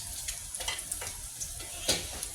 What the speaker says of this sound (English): my bacon has been in for 6 minutes and my water is boiling